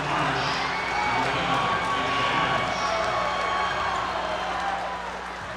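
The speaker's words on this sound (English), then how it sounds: "listen to this crowd cheer on the starters" Crowd at a high school basketball regional final roaring for the starters, a dense sustained cheer filling the gym, steady throughout and easing slightly at the end.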